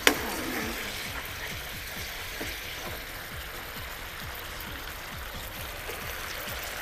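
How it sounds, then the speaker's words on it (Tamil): Chilli chicken sauce bubbling in a pan, a steady low simmer with regular soft bursting bubbles under a hissing wash, fairly faint and constant. "உங்களுக்கு நல்லா இந்த மாதிரி கொதி வரணும்னு வச்சுங்களேன்."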